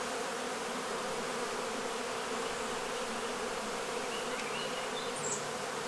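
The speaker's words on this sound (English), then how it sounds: "A lot of bees on here, though." Honey bees buzzing on a beehive frame, a dense steady drone from many bees close by, continuous and even with no voices.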